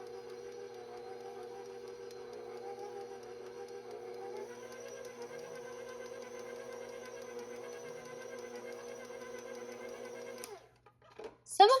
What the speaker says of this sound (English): I'm going to mix this until my ingredients are fully combined.